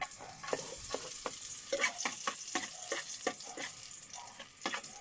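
Garlic sizzles in hot oil in a pan and is stirred in quick, repeated scrapes at the start of a Filipino dish of bamboo shoots in coconut milk. The frying is close and steady throughout.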